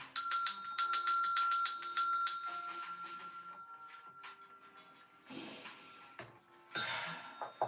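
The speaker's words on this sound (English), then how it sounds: "I am gonna ring this bell. It's gonna be loud" A bell rings loudly with a bright sustained tone that fades out over a few seconds, followed by faint scattered rustling and clicks.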